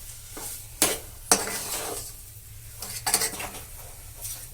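Sugar being stirred into sandwich stuffing in a pan, with a spoon scraping and clinking against the metal in a few sharp knocks over a faint sizzle, close and alone.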